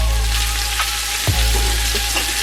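Cream cheese is stirred into pasta sauce in a hot pan, giving a steady close sizzle with a soft scrape of the spoon partway through.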